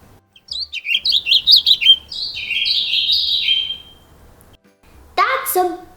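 A bird chirps in a quick run of high, rapid tweets and then a longer warbling phrase, close and clear, before another voice comes in at the end.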